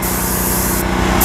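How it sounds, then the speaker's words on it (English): A detail gun sprays trim enhancer onto the trim of a Tesla Model X, giving a steady, close hiss that runs unbroken for about a second with a brief dip in its airy top end. "It's just so easy to use this detail gun."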